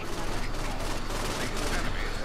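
Sustained assault rifle fire in the video game Saints Row IV, a dense continuous burst of rapid shots running the full length, fairly loud with constant crackle and no pauses.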